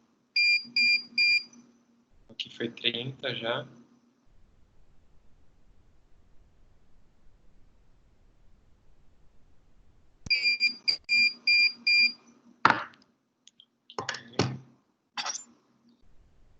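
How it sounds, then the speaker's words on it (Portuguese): A dental curing light (photopolymerizer) gives groups of short, high, evenly spaced electronic beeps, one set at the start and another after a long quiet stretch. A voice speaks briefly between them. "Mas a maioria dos fotopolimerizadores, eles bipam a cada 10 segundos."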